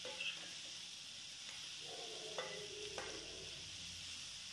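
Green beans, potatoes, green chillies and spices stirred in a kadhai, a steady faint sizzle with a few soft scraping strokes of the spoon, no talking.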